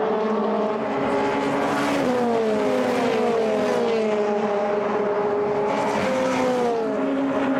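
Formula Renault 2.0 race cars screaming past at Monza, their high engine notes sliding down in pitch as several cars sweep by in quick succession, loud and continuous with a dense roar behind.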